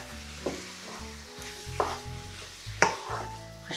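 Spice masala for butter chicken is stirred and fried in a pan, with a steady sizzle under several sharp scraping stirs that come close to the listener. No one speaks.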